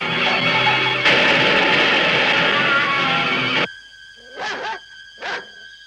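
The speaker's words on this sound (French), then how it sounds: "Lindsay, fais sortir le chien de la cuisine à fond la caisse." Loud, dense noise dominates most of the clip, then a dog barks twice, fairly close, with quiet gaps between the barks, in the film Halloween (1978).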